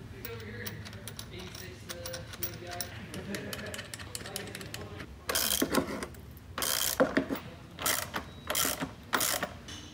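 Hand ratchet tightening Condor Speed Shop engine mount bolts on a BMW E36, close, loud bursts of rapid clicking in several short runs, with quieter background sounds and faint voices before them.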